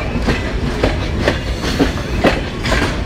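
Rupsha Express passenger train running on rails on the approach to Natore, Bangladesh, with a steady rolling rumble and regular clickety-clack wheel beats recurring roughly every half second, close and continuous.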